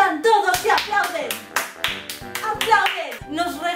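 Parliament members applaud together, loud close rhythmic clapping in a fairly regular beat, with voices mixed in underneath.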